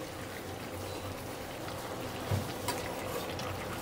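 Green chilies fry in hot oil, giving a steady, even sizzle with light crackling that runs the whole time at a moderate level and no voices over it.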